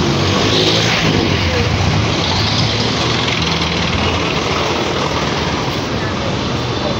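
Dense Philippine road traffic heard while riding counterflow: a loud, steady roar of engines and wind rushing past at close range, continuous throughout, with a voice faintly mixed under the noise.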